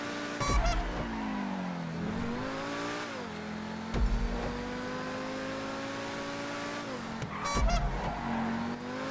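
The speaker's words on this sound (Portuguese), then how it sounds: "Aí o carro tá deslizando." A car in GTA V slides out with engine revving steadily and tires squealing and skidding in several loud bursts, the motor's pitch rising and falling throughout, no voices.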